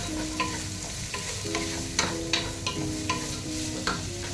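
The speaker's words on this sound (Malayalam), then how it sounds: "അതുപോലെ ക്യാപ്സിക്കവും ക്യാരറ്റും ബീൻസും അതെല്ലാം ഉടങ്ങിയിട്ട് കൊടുക്കാം ഇട്ടങ്ങ് ഇളക്കി കൊടുക്കാം" Capsicum, carrot, beans and spring onion stir-fried for fried rice: a steady close sizzle broken by repeated sharp scraping clacks of the spoon against the pan, roughly every half second, with no voices.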